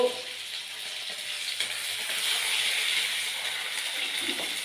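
Small shallots fry in oil in a pan for a river-fish head curry, a steady mid-level sizzle that swells slightly after a soft clatter at the start.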